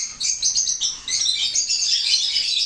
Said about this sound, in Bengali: এখানে সবই রাজশাহী গ্রিবাস কবুতর আছে, সবই কালার ম্যাচিং কবুতর, কোয়ালিটি কবুতর